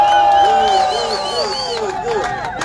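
Crowd at a union rally in New York City cheering, whooping and shouting together, a steady, loud mass of voices with some higher whistles and yells rising over the din.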